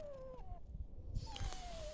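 Cat meowing outdoors beside a house, with two drawn-out, wavering meows that are quiet and somewhat distant, separated by a short pause, over low background rumble.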